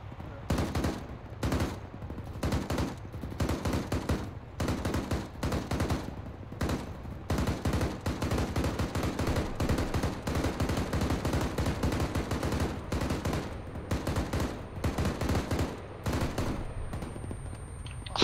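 Sustained gunfire from a convoy's mounted guns in a military training video game, dense rapid bursts and volleys rolling continuously for the whole stretch, loud and close, with faint radio-style voices under the shooting.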